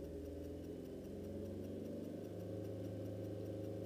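A Skoda Fabia Combi 1.2 CRI common-rail turbo diesel is held against its rev limiter at 3,000 rpm. It gives a steady, even engine drone that stays near, constant and unbroken.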